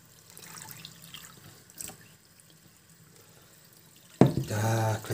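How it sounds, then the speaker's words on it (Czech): Water poured into a roasting pan with stuffed roast pork belly, a sudden loud splashing pour starting near the end after a quiet stretch of faint kitchen noise. "podlejeme vodou"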